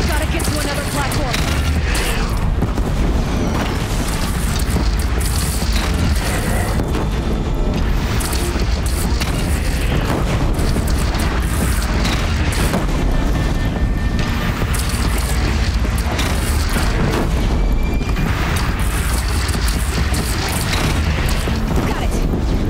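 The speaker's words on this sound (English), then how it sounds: "Death Bringer fire is coming!" Deathbringer machine in Horizon Zero Dawn firing explosive shots, a steady barrage of booms and crashes mixed with mechanical clatter, loud and dense throughout with battle noise layered over it.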